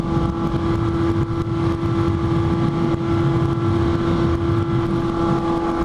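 A Kawasaki Z800 motorcycle engine holds a steady, droning hum while riding along a rural road, with wind rush throughout and no pauses.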